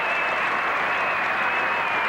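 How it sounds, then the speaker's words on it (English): Cricket crowd at Edgbaston in 1981 applauds a batsman walking out to the wicket, a dense, steady wash of clapping heard alone from start to finish. "And the roar of applause greeting the headingly hero"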